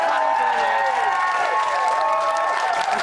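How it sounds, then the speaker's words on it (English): A studio audience at a live celebrity reality-show companion programme applauds and cheers loudly, the clapping blended with whoops and a voice talking over it throughout. "Give him a round of applause."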